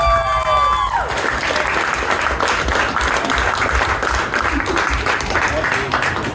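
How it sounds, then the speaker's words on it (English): Guests at an 18th birthday party burst into loud applause and cheering as a father returns to the stage. Dense, close clapping with voices and whoops mixed in continues steadily for several seconds. "Round of applause for Todd!"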